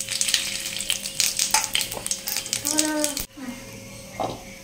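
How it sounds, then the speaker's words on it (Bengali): Cumin seeds and two bay leaves hit hot oil in a home kitchen pan, giving a crackling sizzle with a few stirring clinks, heard under a woman's close, steady talking before a sudden drop to a quieter hiss. "তেলটা গরম হয়ে গেছে, এবার আমি জিরে দিয়ে দেবো। দিয়ে দেবো 2টো তেজপাতা।"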